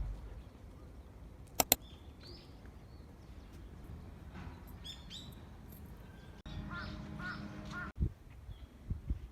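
Crows caw intermittently in the open air near a Tokyo temple in spring, with a couple of sharp clicks and scattered chirps from smaller birds over a soft, steady background.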